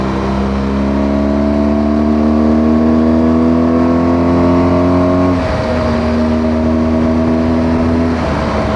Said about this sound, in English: that growl of the engine, the boxer engine